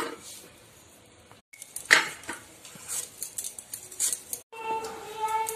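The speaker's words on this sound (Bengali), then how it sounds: "ওলের টুকরোগুলো এইভাবে ছোট ছোট করে নিচ্ছি।" A knife chops elephant foot yam into small pieces on a board in a home kitchen, giving sharp, irregular taps and scrapes close by with short pauses between them.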